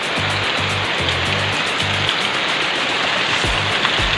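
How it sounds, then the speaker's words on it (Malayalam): Heavy rain pours steadily on a roof at a home construction site in Kerala where an old tile carport roof is being built, a dense continuous hiss with no talk. "നല്ല ഒരു മഴ തന്നെയാണ് പെയ്യുന്നത്"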